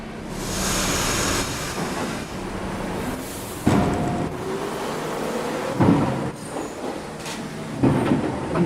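A New York subway 1 train bound for Riverdale rumbles and rattles as it departs in snowy conditions, with steady rolling noise, louder clunks and thumps of the cars, and a faint rising motor whine, heard from inside.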